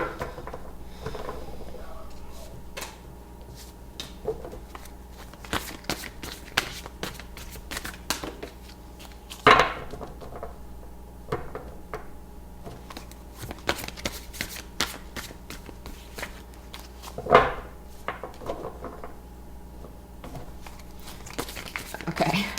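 Tarot cards shuffled at length during a card reading, producing a steady run of soft riffling and crisp flicks with a few sharper card snaps, close and fairly quiet against a faint low hum.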